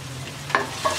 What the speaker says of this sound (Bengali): এবার পেঁয়াজ রসুনটাকে হালকা ভেজে নেব।